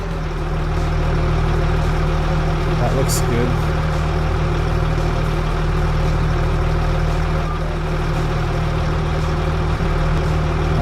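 A truck engine fitted with an exhaust extension mod idles in Farming Simulator 25, a loud, steady low rumble throughout while someone talks briefly over it.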